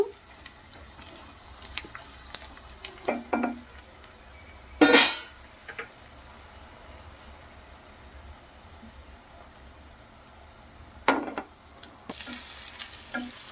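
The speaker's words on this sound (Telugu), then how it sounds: "ఇప్పుడు టమాటా ముక్కలను కూడా యాడ్ చేసుకుందాం దీంట్లో" Tomato pieces fry in a pan for an egg curry. There is a faint, low sizzle, broken by occasional sharp spoon scrapes and clinks against the pan.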